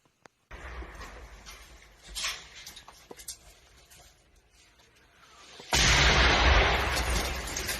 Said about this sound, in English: The artillery fire is still coming in.